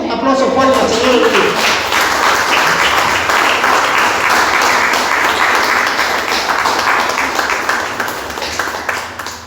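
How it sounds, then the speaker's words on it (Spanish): A church congregation breaks into loud, sustained applause in praise of the Lord, dense clapping that fills the room with a few voices cheering through it before it slowly tapers off. "Den un aplauso fuerte al Señor."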